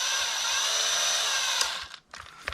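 A power drill spins an RC car differential's universal joint, giving a steady high whine for over a second before it winds down, stutters and briefly stops, then revs up again.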